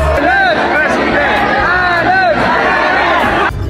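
A large, densely packed crowd of thousands of supporters in Aceh cheers and chatters loudly while welcoming Anies, a continuous roar of voices with shouts rising above the din.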